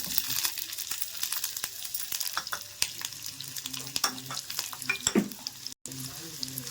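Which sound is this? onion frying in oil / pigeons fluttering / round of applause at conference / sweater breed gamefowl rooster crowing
onion frying in oil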